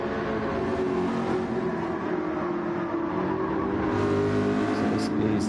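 The engine of an older, 2002-based Ford GT race car in a racing video game drones steadily and loudly, rising in pitch near the end as it pulls away, with faint commentary underneath.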